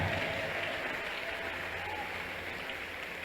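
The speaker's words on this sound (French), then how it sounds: "If you want to clap, clap so loud." An audience claps together, and the dense applause holds steady and fairly loud for the whole stretch, with no other sound standing out.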